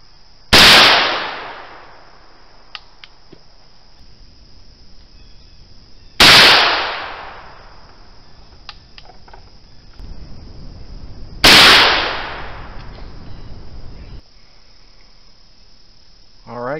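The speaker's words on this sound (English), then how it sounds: "do a little bit of shooting, get the gun good and dirty" Three loud, sharp rifle shots ring out at a range, evenly spaced about five seconds apart, each followed by a quick echoing decay, using homemade cleaner-burning powder.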